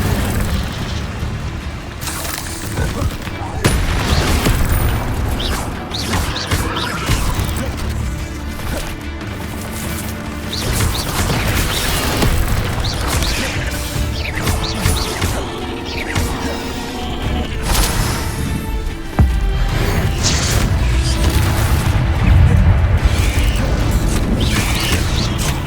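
Fire spells cast during combat in Hogwarts Legacy, a long dense run of loud booms, crashes and whooshing bursts with clattering mechanisms, continuous and busy throughout, with no talking.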